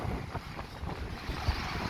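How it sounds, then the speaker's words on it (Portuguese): Strong northwest wind gusting over 50 km/h in Caraguatatuba buffets the microphone, a continuous low rumbling roar with small thumping gusts and no voices. "Só deve sair o barulho do vento só."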